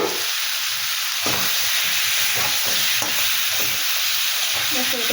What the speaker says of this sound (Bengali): এটা কষিয়ে নিচ্ছি সমস্ত সবজির সঙ্গে মশলা